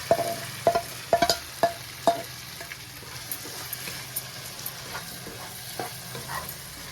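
Parboiled cauliflower tipped into frying masala in a pan for gobi tomato curry, with a few sharp stirring clatters early on, then a steady soft sizzle and occasional light scrapes.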